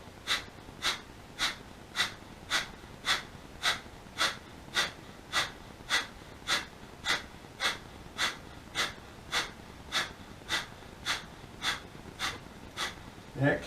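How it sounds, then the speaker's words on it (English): Kundalini yoga breath of fire: rapid, evenly spaced nasal exhalations, about two per second, sharp and regular, repeated steadily throughout with no talk. "in this position begin breath of fire"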